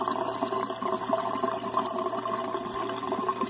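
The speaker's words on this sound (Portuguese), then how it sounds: "por onde a água vem do overflow e entra aqui no decantador. E ela sobe por aqui" Water from a fish tank overflow pours into a settling filter made from pipe in an urban tilapia setup, a steady, close, continuous rushing and gurgling flow heard alone without change.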